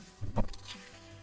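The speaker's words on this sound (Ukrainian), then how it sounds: "причудова коза" A single short goat bleat in a video game, nasal and wavering, lasting under a second before fading into quiet.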